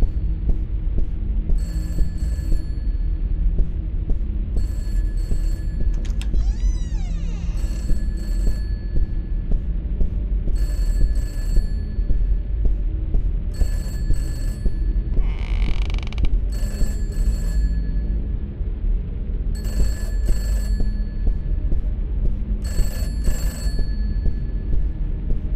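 An old telephone rings over and over in a haunted house in the PS1-style horror game Peter's House, each evenly spaced burst of ringing sounding over a low throbbing hum.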